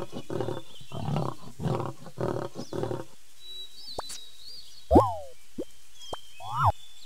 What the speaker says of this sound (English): Lion.